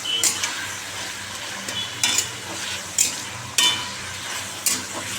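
Chillies, ginger and garlic fry in hot oil with a soft continuous sizzle, punctuated every second or so by sharp metallic clinks and scrapes of a spatula against the pan, close up.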